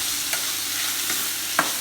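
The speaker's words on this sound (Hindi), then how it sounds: "तो अब मैं इसमें डालूंगा बीट रूट. अब मैं इसको करूंगा थोड़ा सा मिक्स." Beetroot being stirred into a vegetable cutlet mixture in a pan, with a steady sizzle of frying under a few soft scrapes of the spoon.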